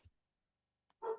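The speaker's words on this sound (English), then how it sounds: "okay, well, I noticed that, excuse the dog." A Basset Hound mix dog gives a single short bark close by after a brief silence.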